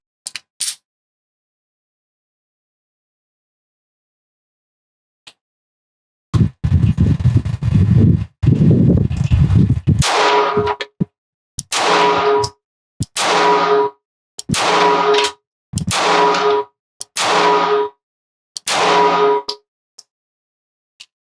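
Shots from a Springfield Ronin EMP micro-compact 1911 pistol during a third magazine: after a short burst of handling noise, seven sharp, loud reports ring out singly at a steady, unhurried pace, with short gaps between them.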